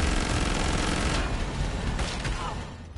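Rapid gunfire from the video game Killing Floor 2, a dense unbroken barrage of shots filling three seconds at steady loudness, easing slightly at the very end.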